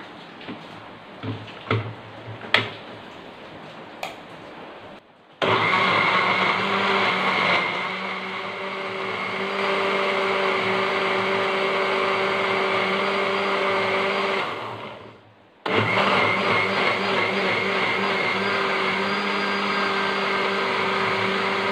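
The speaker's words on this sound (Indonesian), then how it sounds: "terus di blender" A kitchen blender grinds coriander and cumin seeds with water: a few clicks and taps first, then a loud steady whirring roar that briefly dies down, cuts out, and starts again at full strength.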